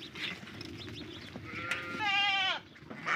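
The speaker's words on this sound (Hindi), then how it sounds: "ये देखो ये बकरी" Goats in a pen in Saudi Arabia give a single clear, wavering bleat up close, with lower animal noise and a faint murmur around it.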